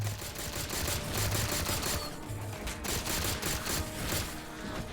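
Rapid energy-weapon fire from a plasma pistol in Halo 4 crackles in dense, repeated bursts for several seconds, loud and continuous with short pauses between volleys, and no voices.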